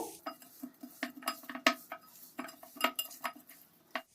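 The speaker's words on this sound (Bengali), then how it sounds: "এই সব কিছুকে চিকেনের সঙ্গে খুব ভালো করে মিশিয়ে নেব" Chicken being mixed with pepper powder, salt, lime juice and spices in a bowl, heard as a close run of clinking, scraping utensil-on-bowl knocks in an irregular rhythm, with no talk.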